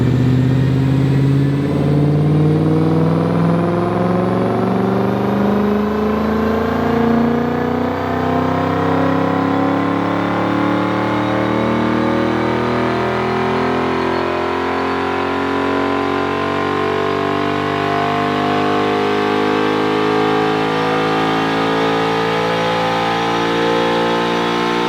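A car's engine climbs steadily in pitch on a dyno pull in fourth gear up to 7,000 RPM, loud and continuous with rising harmonics, after a Tweetler 90mm throttle body and high flow fuel filter were fitted.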